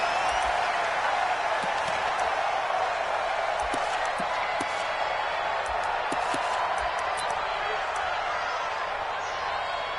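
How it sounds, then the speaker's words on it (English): A stadium crowd in the Madden 20 video game roars steadily before a Dolphins versus Cowboys matchup, a continuous dense cheer with scattered claps and thumps beneath commentary. "This crowd is ready as their guys get set to match up between the Miami Dolphins and the Dallas Cowboys."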